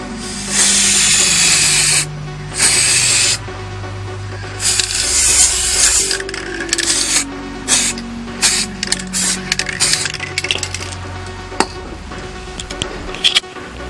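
Spray paint hisses onto hair clippers in several separate bursts, long blasts at first and then shorter, choppier spurts, close and fairly loud with no talking.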